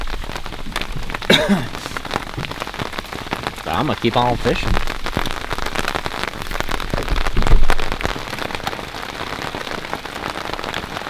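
Steady rain patters across Goldwater Lake in Prescott, Arizona, during a thunderstorm, a dense hiss of drops on water and gear that runs throughout, with a person talking briefly over it.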